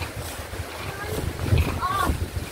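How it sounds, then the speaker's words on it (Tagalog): Strong wind gusting against the microphone, a steady rushing roar with a voice talking through it. "Nakakatakot yung hangin"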